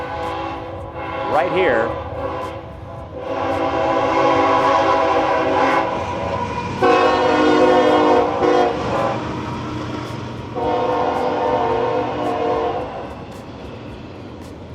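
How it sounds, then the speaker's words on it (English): A train rushes through Fortville, Indiana without slowing, its horn blaring in long loud blasts over rumbling wheels, close by, while a person speaks briefly near the start. "that train"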